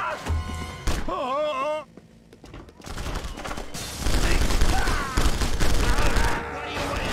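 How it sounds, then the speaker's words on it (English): Gunfire rattles in The Punisher video game in bursts of rapid shots and thuds mixed with game music and effects, while voices speak over parts of it. "why are you shooting me now?"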